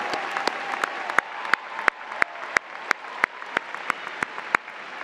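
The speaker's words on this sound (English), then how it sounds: "I would like to recognize all alumni who may be in the audience with us today for a round of applause" Scattered, rhythmic claps ring out from a commencement ceremony audience, a few sharp individual hand claps standing out close and distinct over a thin murmur of applause.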